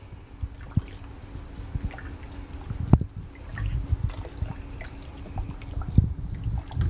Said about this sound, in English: Now I got the tomato paste all dissolved in the water.